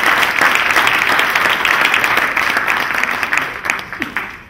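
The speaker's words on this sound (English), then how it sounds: "Big round of applause to Julie for setting this all up." Audience at a fitness tech summit gives a big round of applause, dense crowd clapping loud at first and gradually fading toward the end.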